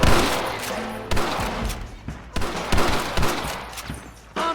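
Gunfire in Red Dead Redemption, a rapid series of sharp shots and bursts at irregular intervals over a dense background of game noise.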